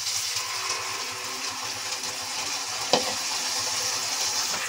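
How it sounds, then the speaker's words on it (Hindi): Tomatoes tipped into a pan of fried onions for Punjabi-style rajma masala, a steady close sizzle and crackle of frying that holds throughout, with a brief clatter partway through as the ingredients land. "प्याज हमारे भून चुके हैं। अब मैं इसके अंदर टमाटर डाल देती हूँ।"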